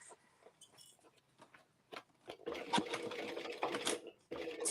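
A sewing machine stitching up close, starting with a few soft clicks and short bursts before running steadily, then pausing and starting again.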